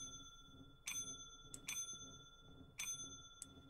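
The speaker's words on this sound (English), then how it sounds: "Who's ringing the goddamn bell?" A bell rings in a video game, several sharp metallic dings spaced irregularly over a faint, steady low hum, with no voices.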